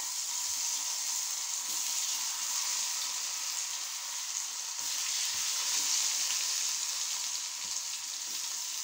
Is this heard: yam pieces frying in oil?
yes